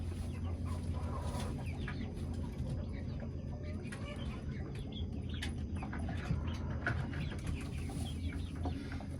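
Backyard chickens cluck near nesting boxes in a hen house, a steady low murmur of fowl sounds throughout with scattered higher calls and no clear speech.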